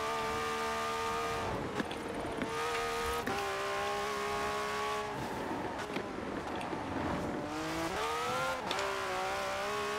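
A car driven in the video game Forza Horizon 4, without ABS or traction control, its engine tone rising and falling through repeated gear shifts and revs at a moderate level, with brief tire noise between shifts.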